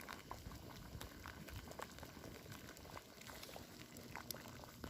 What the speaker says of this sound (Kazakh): Сақырлап қайнап жатыр.